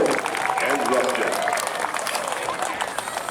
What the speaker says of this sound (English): Gonna have a round of applause, please, for Jason Ford and Russia.